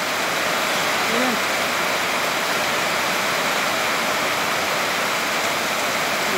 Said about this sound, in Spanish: Está cayendo los chorros de agua.